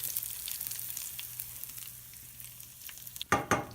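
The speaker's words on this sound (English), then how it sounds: "A little bit of bacon grease sizzling." Bacon grease sizzles in a pan for a bacon sauce, a soft steady frying hiss with small pops, ending in a couple of louder sharp crackles and stirring noises, with no talking.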